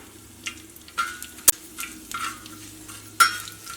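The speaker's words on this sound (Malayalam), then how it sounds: "ഉണക്കമുളകും പൊരിയണം" Dried red chilies frying in hot oil give a soft, steady sizzle, broken by a few sharp clicks and stirring scrapes from the pan.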